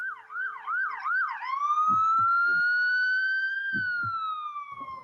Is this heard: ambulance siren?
yes